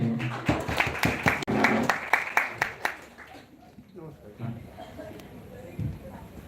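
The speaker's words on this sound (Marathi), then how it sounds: "जोरदार टाळ्या" A seminar audience in Pune breaks into a loud burst of clapping that runs for about three seconds and then stops, followed by a voice speaking.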